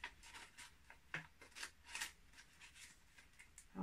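Scissors snip through paper while cutting out a shape for a children's craft of a witch's pumpkin house, giving quiet, close, uneven little crunching cuts in a steady series.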